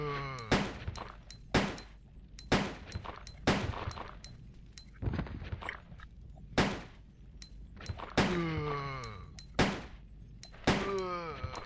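Repeated handgun shots in the Resident Evil 2 video game, sharp and loud at an irregular pace, mixed with game thuds and impact sounds.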